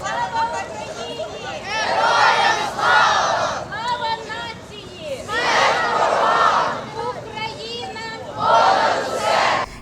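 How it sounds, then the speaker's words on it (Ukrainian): Children shouting patriotic slogans and cheering in bursts along a peace march in Horodok, with crowd chatter between the loud, repeated waves of young voices. "У відповідь вони махали прапорцями та вигукували патріотичні гасла"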